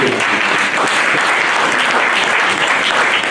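Church congregation applauding and cheering together in praise, a dense, steady wash of clapping that stays loud and unbroken throughout, with no talking over it.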